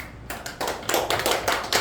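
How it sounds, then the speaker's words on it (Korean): Congregation clapping during a Sunday church service, a crowd of hands starting sparse and swelling into steady, fairly close applause with no talk over it. "박수하겠습니다."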